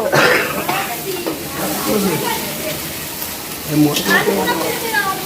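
Oil sizzles steadily in a pan as food fries and is stirred, a continuous close hiss with occasional scraping, under a busy kitchen with voices talking.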